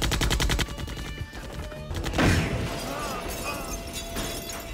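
Gunfire in a film scene as a gang opens fire, with rapid repeated shots in a burst at the start, then a sharp louder blast followed by lingering, echoing debris and rumble.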